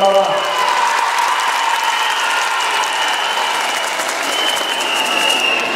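An audience at a Mauritanian event for emerging young women applauds Madame Tandia Kamara with sustained, fairly loud clapping, and a voice carries faintly over it.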